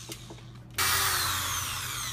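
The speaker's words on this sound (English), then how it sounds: "we drill a slightly bigger hole so that the screws will go down below the surface" A power drill bores a slightly oversized hole into a hardwood thrift store country dining table, starting abruptly after a quiet moment and then whirring steadily and loudly at close range.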